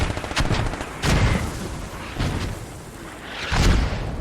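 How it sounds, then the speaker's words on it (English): Mortar fire in a multiplayer war video game match, several heavy booming blasts with echoing tails spaced a second or so apart, loud and near, with no talk. "These mortars, man, doing work."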